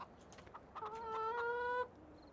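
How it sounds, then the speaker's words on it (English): A chicken in Farming Simulator 17 gives a short clucking call, a few quick clucks rising into a drawn-out squawk, near and clear over a quiet background. "And we've apparently got some chickens."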